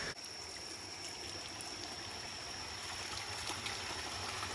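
A cold mountain stream on a hiking trail in Japan flows steadily with a soft broadband rush and trickle, close and unbroken.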